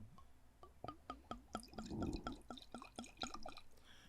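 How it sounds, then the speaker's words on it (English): Liquor poured into a glass makes a quiet, close, rapid series of gurgling glugs and splashy drips over a few seconds, with no voices. "Let me pour this up."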